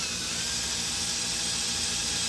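A freshly rebuilt Triumph Spitfire engine revs with a steady, loud, high-pitched whine and mechanical buzz, holding at a sustained speed close by with no talk.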